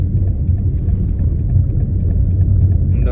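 Road traffic on the storm-damaged road through Lembah Anai, a continuous low engine rumble and tyre drone from passing vehicles, steady and moderately loud throughout.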